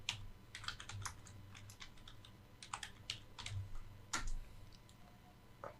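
Typing on a computer keyboard while entering credits in Adobe Premiere, quiet close key clicks in quick irregular bursts with short pauses between words.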